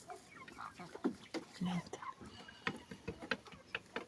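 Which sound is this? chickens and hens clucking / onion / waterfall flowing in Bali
chickens and hens clucking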